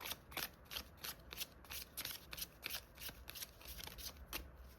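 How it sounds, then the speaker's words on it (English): Tarot cards are shuffled close up in a steady run of crisp riffling bursts, roughly two or three per second, with no voices over them. "And I'll give it one more good shuffle and then I'll pull."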